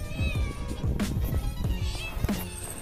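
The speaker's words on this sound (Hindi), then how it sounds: "अब बेचारी यार बिल्ली भी आ रही है इधर बार बार, छोटी सी बच्ची है यार" A young kitten meows repeatedly, with several short, high-pitched, insistent cries in quick succession, close and loud against a faint outdoor background.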